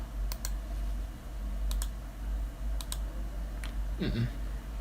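Mouse clicks during a gem-breaking game on a computer, a few sharp, faint, isolated clicks spaced over several seconds against a low steady hum, with a brief murmur of voice near the end.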